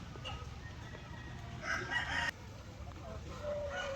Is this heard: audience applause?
no